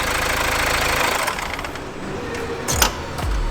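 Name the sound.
car engine running, defective car under warranty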